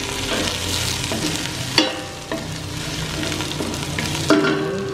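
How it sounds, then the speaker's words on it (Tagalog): Onion and garlic fry in oil in a stainless steel pan, a loud, even sizzle punctuated by a few clanks of a utensil against the metal. "Ilagay na natin yung sibuyas saka yung bawang."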